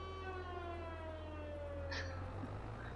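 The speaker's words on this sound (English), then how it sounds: "Why am I hearing tornado warning sirens" Tornado warning sirens in the Farming Simulator 22 game wail as long, steady tones, quiet and distant over a low hum, with no one talking.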